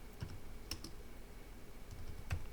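Fast, light keystrokes on a computer keyboard type out a search, with quiet clicks in short bursts and a steady low background hum behind them.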